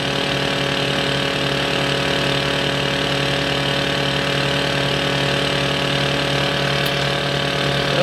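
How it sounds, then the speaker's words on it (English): The left piston engine of an ATC-810 IFR flight simulator runs at idle as a steady, even mechanical drone with no voices. "And we now have a running left engine."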